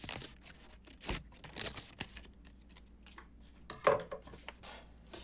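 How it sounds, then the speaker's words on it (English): Scissors snip through a sheet of paper to trim off the excess while folding papel picado, a few quiet crisp cuts and rustles close by in a hushed room. "the excess piece on the right, I'm just going to cut that off"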